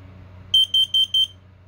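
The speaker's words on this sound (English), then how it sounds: "Warning, carbon monoxide." An Edwards fire alarm demo board sounds a carbon monoxide warning: four quick, loud, high-pitched electronic beeps in an even rhythm over a low steady hum.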